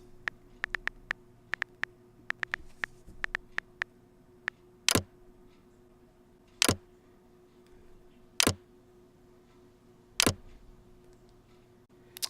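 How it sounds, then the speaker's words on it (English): On an iPhone running Apple iOS 10, a quick run of crisp keyboard typing clicks comes first, then four louder, evenly spaced lock clicks sound alone against quiet background hiss. "There's also new sounds for lock and typing, as you can hear."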